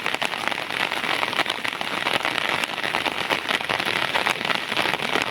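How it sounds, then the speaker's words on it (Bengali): Rain falling over green hills and dense forest: a loud, continuous, even hiss of countless drops with no pauses and no talking. "পড়ছে বৃষ্টি"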